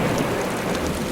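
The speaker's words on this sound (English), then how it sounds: "thunder and lightning drown out the relentless beating rain" Heavy rain pours down during a storm in the Chernobyl exclusion zone, a dense, continuous hiss of drops beating on surfaces, loud and close with no voices.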